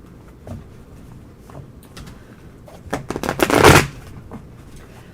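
A deck of tarot and Lenormand cards is shuffled up close, soft riffling ticks building into a dense, louder burst of flicking cards before trailing off.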